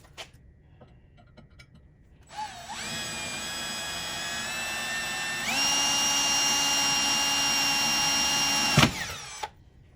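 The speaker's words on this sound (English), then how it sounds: "Get that first one drilled there." A power drill whines steadily for several seconds, its pitch stepping higher partway through as it bores a hole for a GC1725M ammo tool box holder mount, then cuts off.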